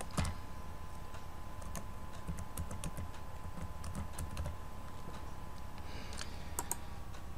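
Keys clatter steadily on a computer keyboard as a card number is entered on a website hosting signup page, quiet clicks scattered irregularly across the whole stretch with no talking.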